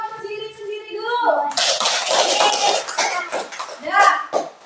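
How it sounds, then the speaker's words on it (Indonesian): A group of children in a classroom clap for themselves, a dense burst of quick hand claps starting abruptly after a moment of singing voices and continuing loudly with some coughs and chatter mixed in. "Tepuk tangan untuk diri sendiri dulu"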